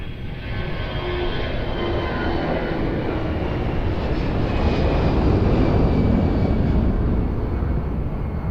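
An airplane takes off at Lisbon Airport: a loud, steady jet-engine roar holds for several seconds and swells slightly toward the end, with no voices.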